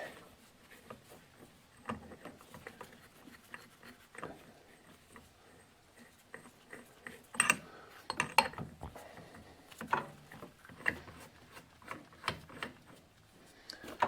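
A 35 mm flywheel puller is threaded by hand onto the flywheel of a 2000 Yamaha Warrior ATV. Faint, scattered metallic clicks and light scrapes come close by in an uneven sequence.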